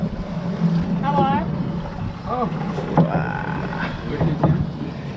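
Boat powered by a long-shaft outboard engine on the Amazon near Boca de Valeria, a steady motor drone throughout with people talking over it.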